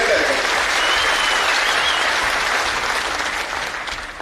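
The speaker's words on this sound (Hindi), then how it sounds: "तीनों बेटियों का ताली बजा के स्वागत करें, अभिनंदन करें।" A steady, loud wave of audience applause at a public gathering welcoming three daughters, dense clapping sustained throughout and tapering slightly at the end.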